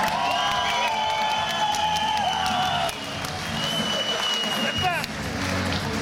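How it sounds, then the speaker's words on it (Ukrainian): Arena crowd at a boxing match applauding and cheering after a technical knockout win, a dense loud roar of clapping and shouts with whistles, steady throughout with commentary voices under it. "Оплески білоруському спортсмену"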